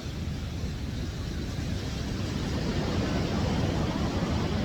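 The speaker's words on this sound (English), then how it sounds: "I hope you can hear me over the waves" Ocean waves break on Surfers Paradise beach in Queensland, a steady broad wash of surf that builds slightly, heard alone without voices.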